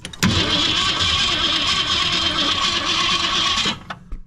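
An abandoned 1964 Ford Fairlane, a Thunderbolt clone, cranks over on its first start in 29 years, giving one loud continuous burst of starter whir and engine churning that cuts off abruptly after a few seconds.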